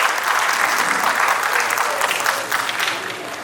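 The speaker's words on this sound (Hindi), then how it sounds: "तालियां हो जाए" An audience at a legal ceremony held with a district judge claps in a dense, sustained round of applause that stays loud and even, then thins slightly toward the end.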